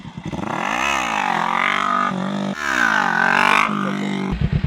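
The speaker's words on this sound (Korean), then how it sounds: "클러치를 반클러치 상태에서 튕기기만 하면 되는 거야. 그러면 오토바이가 들려." A motorcycle engine revs hard and climbs in pitch, drops, then revs up again loudly and close, ending with a rough idle burble, as the clutch is slipped and popped for a clutch wheelie.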